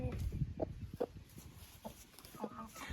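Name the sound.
hen clucking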